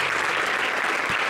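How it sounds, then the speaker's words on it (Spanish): Audience applause at a live show in Madrid, a dense steady burst of clapping from a large crowd, loud and close. "Dale un aplauso,"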